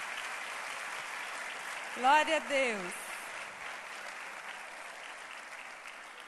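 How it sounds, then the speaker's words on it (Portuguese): Church congregation applauding during a live worship service, a broad steady wash of clapping with a short spoken exclamation over it partway through. "Vamos aplaudir a Deus pela vida dos visitantes. Bem forte."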